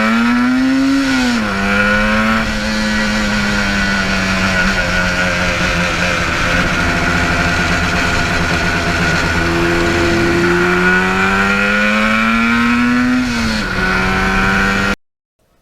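A 45-year-old 1977 Yamaha RD400 two-stroke motorcycle runs steadily and loud from start to finish, its engine note sliding up and down through several rev changes before cutting off abruptly at the end.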